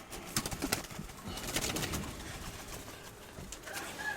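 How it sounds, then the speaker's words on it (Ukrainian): Soft pigeon cooing with bird activity, a few brief sharper calls and possible wing flutters, fairly close with steady background noise. "Це я голубків показую. Значить, це голуби, це подарунок мені."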